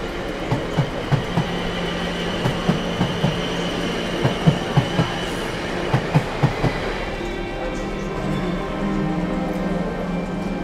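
A Pakistan Railways train rolls along the tracks with loud, rhythmic clickety-clack of wheels over rail joints in repeated bursts, then settles into a steadier rumble toward the end.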